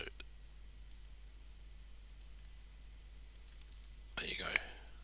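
A computer mouse clicks in sparse, faint single taps over a quiet hum, then a louder quick cluster of clicks and clatter near the end.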